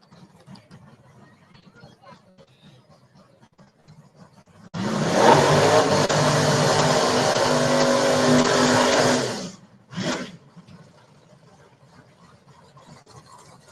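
A Chevy drag racing car launches and runs down the strip at a drag race, giving a loud, roaring engine blast of about five seconds that cuts off abruptly and is followed by a short second burst. Faint commentary is heard before and after the run.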